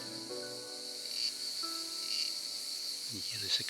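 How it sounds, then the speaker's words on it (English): A cicada drones steadily in a tree on a sunny morning walk in the interior of Rhodes, a faint continuous high buzz that persists throughout, with other low tonal sounds in the background. "You hear the cicada trying to start its engine up in this tree here."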